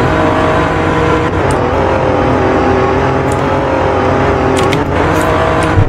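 A 2021 Alfa Romeo Giulia Quadrifoglio accelerating hard, its engine note loud and close, climbing in pitch with brief breaks between gear shifts, no talking over it.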